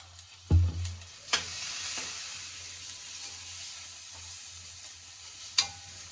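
Ginger garlic paste and turmeric frying in a pan, a steady soft sizzle with a few sharp spoon-against-pan clinks and stirring scrapes, close and alone without talk.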